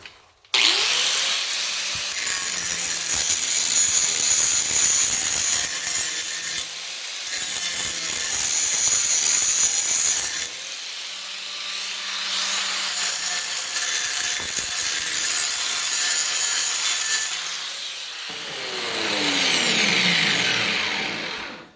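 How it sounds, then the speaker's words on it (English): An electric grinder works down welds on sheet metal, a loud continuous abrasive whine in long passes with brief pauses, ending as the disc spins down. "I'm going to take the electric grinder now and dress that up and round that out"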